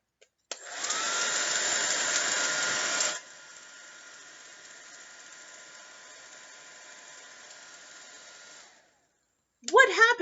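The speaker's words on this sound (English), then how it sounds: "now I'm going to turn it on to see what happens to these pieces of streamers" A hairdryer switches on at full blast, a loud steady whoosh of air for a few seconds, then drops to a quieter lower setting before cutting off, followed by a brief burst of a voice.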